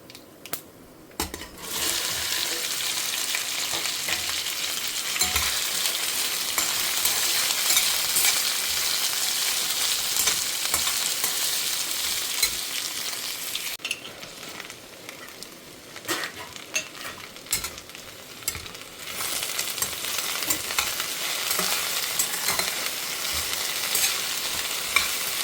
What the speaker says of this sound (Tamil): வெண்டைக்காய் வதக்கலுக்கு நம்ம வந்து கடுகு, உளுத்தம்பருப்பு, கடலப்பருப்பு செவக்க வறுத்துக்கணும்.